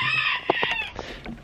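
Chickens clucking close by in a backyard run, a rapid series of short, throaty clucks and squawks layered over each other with no talk.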